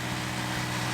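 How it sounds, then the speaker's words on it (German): Four-cylinder 33 hp sailboat engine running, a steady dense mechanical drone heard close and alone for about a second. "Von dem Motor kann man erwarten, dass er eine ganze Weile hält. Also der hört sich gut an."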